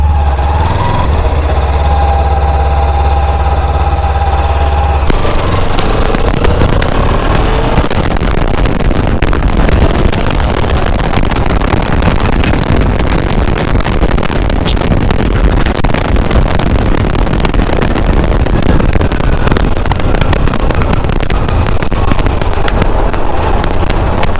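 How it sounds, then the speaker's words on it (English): A Ducati look-alike motorcycle is ridden, its engine a loud, continuous rumble with rushing wind noise after an idling start, staying close throughout with no speech. "The bike is really awesome. Riding it."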